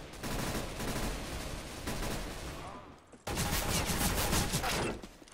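Rapid bursts of gunfire from the video game Counter-Strike rattle in dense, loud volleys, with a brief gap in the middle, while players chatter over the shooting.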